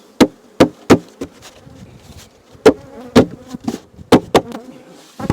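Honey bees buzz around a hive as a frame is knocked, with several sharp wooden knocks and thumps at irregular intervals over a steady, fairly loud insect hum close by.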